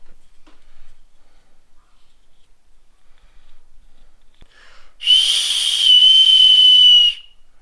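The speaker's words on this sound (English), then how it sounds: "Yep, there's a whistle in there too." A whistle built into a piece of vehicle recovery gear gives one loud, steady, shrill blast lasting about two seconds, close up, after a stretch of near silence.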